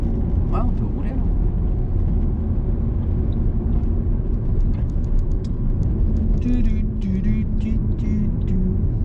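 A car driving along during a driving lesson, a low steady engine and road rumble throughout with an instructor and learner talking over it, close inside the cabin.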